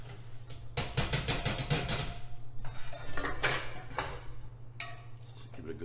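Tomato pomodoro sauce is stirred in a pan on the stove, with a utensil scraping and clattering against the metal in quick repeated bursts over a steady low hum.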